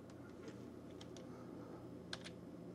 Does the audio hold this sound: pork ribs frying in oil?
no